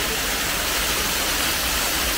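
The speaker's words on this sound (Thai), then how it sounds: "อันนี้คือน้ำตกนะ" Water pouring down an artificial waterfall in a bird park in India, a loud, steady, broadband rushing roar that fills the whole stretch without a break.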